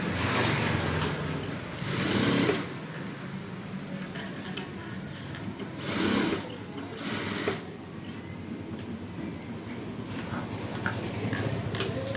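A sewing machine stitches around the neckline of a blouse, its steady mechanical whir running throughout with a few louder bursts of faster sewing, close and alone.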